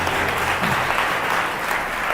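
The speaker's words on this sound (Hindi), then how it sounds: "एक बार यीशु की महिमा करें जोर से ताली बजा के" A church congregation claps loudly in praise during a gospel sermon, a dense, steady wash of many hands with no talk over it.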